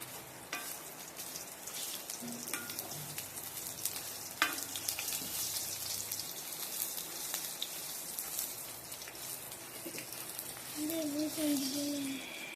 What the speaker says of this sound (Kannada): ಚೂರು ಫ್ರೈ ಆಗ್ತಾ ಇರುವ ಹಾಗೆ ಇಲ್ಲಿ ನೋಡಿ ಶುಂಠಿ ಮತ್ತು ಬೆಳ್ಳುಳ್ಳಿಯನ್ನು ಸೇರಿಸ್ಕೊಳ್ತಾ ಇದ್ದೇನೆ